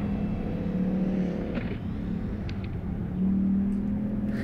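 A drifting car, a Ford Mustang 5.0 or a Nissan 200SX S13 with a 2JZ engine, revs and rumbles nearby, its engine note rising and falling through a few throttle changes with brief higher bursts.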